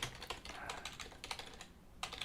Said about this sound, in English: by typing in a small note